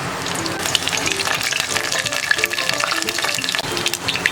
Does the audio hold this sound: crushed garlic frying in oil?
yes